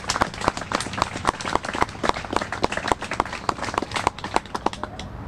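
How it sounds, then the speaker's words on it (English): A small audience applauds after a call to honor everyone who worked on a credit union joining the Federal Home Loan Bank of Pittsburgh, with sparse, uneven claps rather than a full ovation, steady across the whole stretch at moderate loudness. "let's start off giving everybody involved a round of applause."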